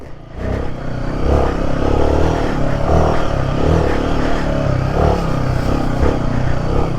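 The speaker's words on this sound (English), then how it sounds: "hitting the throttle and nothing is happening" A 2024 Royal Enfield Himalayan engine revs under open throttle at high elevation, lacking snap above 3,000 RPM and running lean, giving a loud, steady, rough drone that holds for several seconds with clattering mechanical texture.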